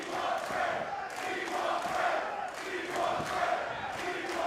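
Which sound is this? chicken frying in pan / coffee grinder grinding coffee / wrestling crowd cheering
wrestling crowd cheering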